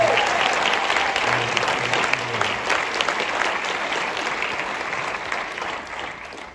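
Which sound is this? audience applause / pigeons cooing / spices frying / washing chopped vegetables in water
audience applause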